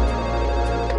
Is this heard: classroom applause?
no